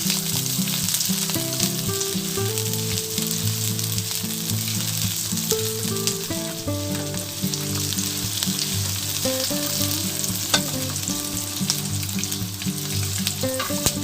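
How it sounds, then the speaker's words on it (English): Chopped large onion sautéing over a high flame for pork adobo, a steady loud sizzle and crackle of frying with faint stirring, continuous throughout with a tonal musical bed over it and no talking. "Sauté chopped 1 piece large onion on high flame setting for about 20 seconds."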